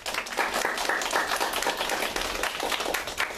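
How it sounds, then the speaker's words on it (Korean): An audience at a school reading and debate contest claps to welcome the judges, a dense patter of many hands that holds steady and fairly close throughout. "심사위원님들 소개해 주실 때 큰 박수로 맞이해 주시면 감사하겠습니다"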